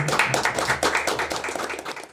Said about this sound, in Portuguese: Eu quero palmas aqui para os nossos convidados de hoje.